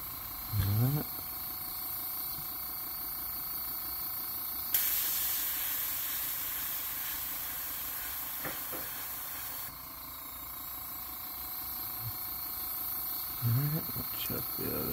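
An airbrush sprays black paint in a crawfish pattern on a crankbait lure, a steady close hiss that stops and resumes, with a sharper burst midway and brief mechanical clicks at the start and end.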